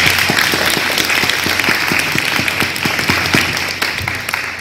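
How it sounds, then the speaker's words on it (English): An audience gives a hearty round of applause for professionals at a community event, with dense clapping that stays loud and then tapers slightly toward the end. "that in itself deserves a massive round of applause"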